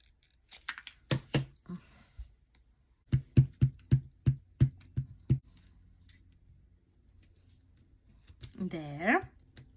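A run of crisp, evenly spaced scissor snips through a paper Halloween cupcake wrap, close and clear, followed by a short burst of rustling paper.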